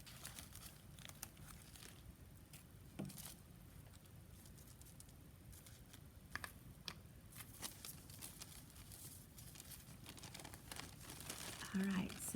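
Tissue paper crinkles and rustles steadily as it is crumpled and pressed into a craft frame, close and fairly quiet, with no speech over it.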